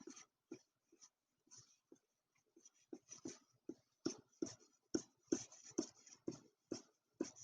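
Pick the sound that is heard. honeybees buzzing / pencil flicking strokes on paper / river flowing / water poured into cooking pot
pencil flicking strokes on paper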